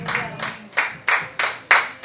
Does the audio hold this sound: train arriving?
no